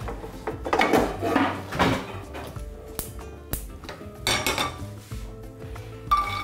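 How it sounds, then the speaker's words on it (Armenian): Walnuts toasting in a pan, with repeated clinks and scrapes of metal cookware and utensils, a few sharp taps and knocks among close, busy kitchen clatter. "Ընկույզ ենք բովում։"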